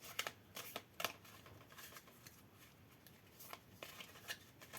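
A deck of treasure cards from a Dragonbane solo tabletop RPG is shuffled by hand. It gives soft, irregular riffling and flicking bursts close to the mic, with no voice.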